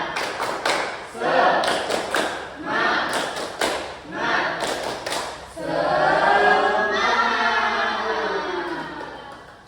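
A group in a school counseling session claps the 'tepuk semangat' cheer in sharp rhythmic bursts, with voices chanting along. The clapping gives way to loud group singing in the second half.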